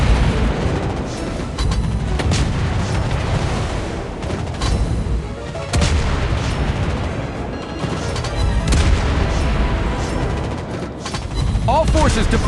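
Anti-aircraft guns on a cruiser in World of Warships Blitz firing continuously, a dense, loud barrage of rapid overlapping blasts and booms that keeps going without a break for the whole stretch.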